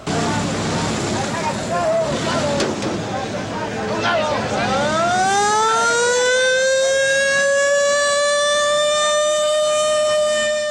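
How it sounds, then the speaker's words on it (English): Rising wail of ambulance sirens in Mexico City swelling into a loud sustained tone, over traffic and crowd noise, with people talking nearby. "Mexico City was a city of sirens."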